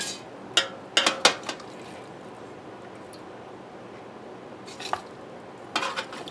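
Roasted meat, browned after a couple of hours in the oven, being moved into a stock pot: a few sharp clatters and metallic scrapes clustered early and again near the end, with quiet gaps between.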